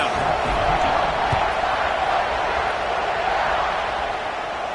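A football stadium crowd roars steadily before a college game kickoff, a dense, sustained wash of cheering and whooping from thousands of fans that holds at a loud, even level throughout.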